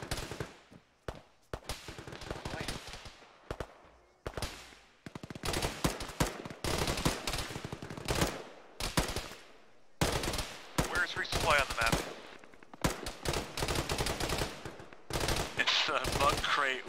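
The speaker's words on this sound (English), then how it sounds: "Is that just shooting bursts by default?" Automatic rifle bursts in the military simulation game Arma, loud close volleys of rapid shots recurring in irregular bursts separated by short pauses, with some radio-style talk between them.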